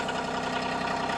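A Kioti CK2610 cab compact tractor engine idles with a steady, even low rumble and faint rhythmic pulsing, continuous and close with no voices.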